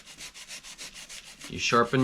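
A scalpel blade is sharpened with regular back-and-forth rubbing strokes across a stone, close and steady, before a voice begins to speak.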